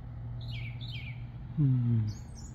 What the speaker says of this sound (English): just little birds fluttering around